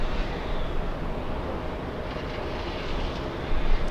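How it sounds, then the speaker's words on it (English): An Alaska airliner bound for Portland takes off from the north side of Los Angeles airport, heard as a distant, steady broadband engine roar that swells slightly at the end, with no talk. "Alaska 1355 in the distance, flying to Portland, taking off via the north side."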